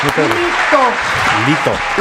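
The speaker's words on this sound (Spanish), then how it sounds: "vamos a recibir con un caluroso aplauso a Rubén García" Applause from a studio audience on a comedy news programme greets a guest, clapping running throughout under overlapping voices and chatter.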